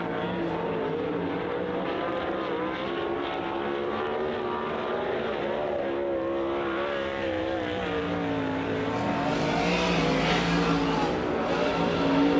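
410 sprint cars roaring around Grays Harbor Raceway at night, a loud sustained engine drone rising and falling as the cars pass, with the pitch swelling toward the end.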